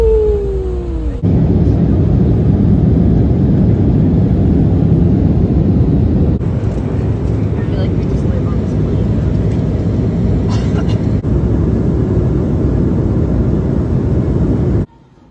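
Steady loud roar of an airplane cabin in flight, a constant broadband drone that fills the whole stretch and then cuts off abruptly near the end, with no talking.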